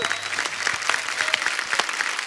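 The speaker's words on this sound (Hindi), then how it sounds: "जोरदार तालियां हुमा और साकिब के लिए।" A studio audience at The Kapil Sharma Show claps loudly and steadily for Huma Qureshi and Saqib Saleem, a brief burst of dense applause.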